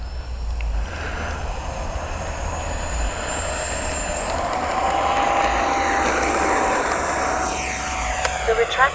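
An XFLY F-35 RC electric jet on a high-voltage 4300 LiPo pack flies overhead with a steady, loud whooshing fan roar that builds slightly toward the end.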